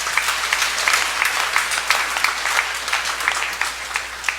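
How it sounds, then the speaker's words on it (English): A crowd at a religious reenactment gathering at a pilgrim center applauds for Señor Santo Niño, loud, close clapping with distinct individual hand claps standing out in a lively, uneven rhythm. "Let's give Señor Santo Niño a big round of applause."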